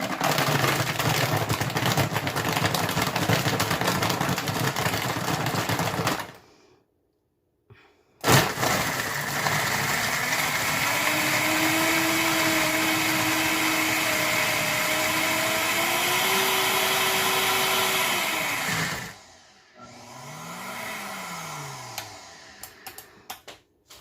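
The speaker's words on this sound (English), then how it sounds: "So I'm just going to put my blender on." A blender runs loudly in a steady whirring drone blending a thick chocolate frosty dessert, stops briefly, then restarts with its pitch shifting as the load changes before winding down.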